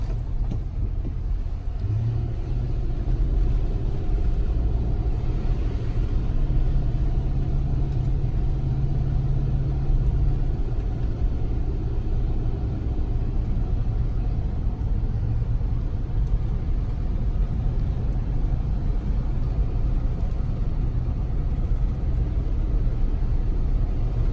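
A car cruising on a quiet, smooth ride gives a steady low engine and road rumble inside the cabin. It stays even and continuous throughout, with no voices.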